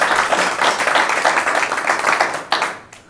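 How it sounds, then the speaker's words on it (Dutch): An audience applauds at a Flexpoint business presentation in Venray, dense steady clapping that fills the room, then tapers off near the end. "Applaus alstublieft"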